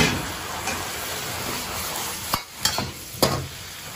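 Beaten eggs hitting a hot wok for a Chinese stir-fry with chrysanthemum greens, a steady close sizzle and hiss with a few scraping stirs of the spatula near the end, no voices.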